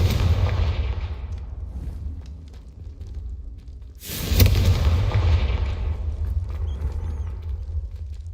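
A Confringo fire spell from the game Hogwarts Legacy explodes with a deep rumbling boom that fades away, followed by a second sharp blast and a long low rumble.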